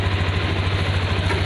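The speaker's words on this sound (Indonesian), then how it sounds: "Sekarang akan saya gas biar stabil ya teman-teman." Engine of a new 2021 Honda Scoopy scooter fresh from the dealer, running with a loud, close, steady humming drone and a throbbing low pulse through a brief moment.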